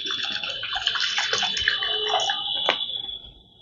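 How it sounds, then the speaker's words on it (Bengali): Flattened rice (chira) being washed with water in a bowl, with continuous close sloshing and splashing and one sharper splash near the end. "চিড়েটা আমি এবার একটু ভালো করে জল দিয়ে ধুয়ে নিচ্ছি"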